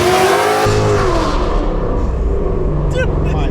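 A loud Ford Mustang GT engine roars hard under acceleration on city streets, with a deep, rising growl heard close up from inside the car and excited voices talking over it.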